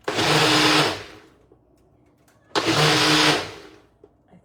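A very full blender runs loud for about a second, goes quiet, then roars again in a second burst, straining with an odd noise while frying pans heat with oil nearby.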